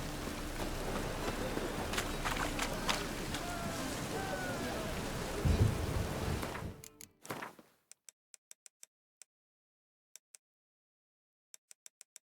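Steady rain pours in The Witcher 3: Wild Hunt for about seven seconds, a dense hiss with a brief louder swell, then cuts to near silence broken by a few faint clicks.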